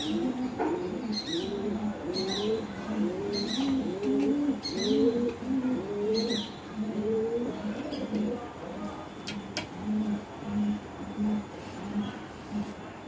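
Pigeons kept at a home coo in a repeated rolling rhythm, close and clear, with soft bird chirps scattered above the calls.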